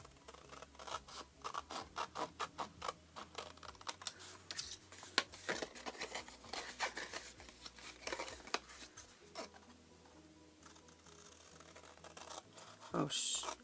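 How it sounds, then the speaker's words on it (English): Big scissors snip through the tabs of a cardboard box, a close series of crisp, irregular cuts and scratchy rustles with faint talk in between. "I might use my big scissors for this. So we're going to completely cut those off."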